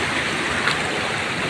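A swollen mountain river rushes loudly and steadily during heavy rain, its broadband watery roar constant and close throughout.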